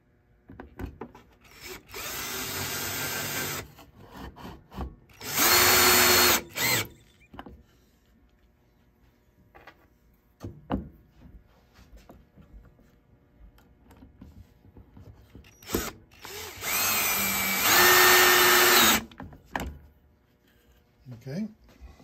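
Power drill drives screws into wood while a radial arm saw measure stop is built, four separate whirring bursts of a second or two each, arriving in two pairs and separated by quieter handling noises and talk.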